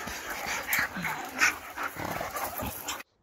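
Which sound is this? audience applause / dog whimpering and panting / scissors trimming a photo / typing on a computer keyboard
dog whimpering and panting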